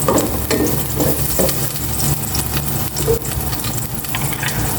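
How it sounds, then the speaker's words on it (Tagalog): Onion and tomato sautéing in a pan, a steady loud sizzle and crackle with scraping stirring strokes throughout, close up and uninterrupted by speech. "sabi ko na itong igisa yung sibuyas, kamatis"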